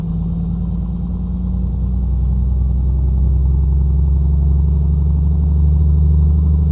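Close, loud, steady drone of the A2A Comanche 250's piston engine on a run-up in Microsoft Flight Simulator, holding a constant hum that swells slightly partway through with no voices.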